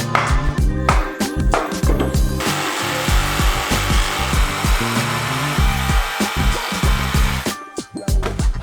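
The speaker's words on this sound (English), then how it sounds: "Cut through this tenon here, and hopefully push this off." Saw cutting through an oak tenon during a derelict barn rebuild, loud and close with rhythmic rasping strokes that run almost continuously before stopping near the end.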